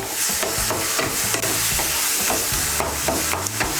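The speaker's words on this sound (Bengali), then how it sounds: "এখন এর মধ্যে দিয়ে দেব স্বাদ মতো নুন। নুনটাকে ভালো করে মিশিয়ে নেব।" Salt being stirred into a frying egg and brinjal bhorta mixture in oil: a steady close sizzle broken by repeated scraping spoon strokes, with no talk.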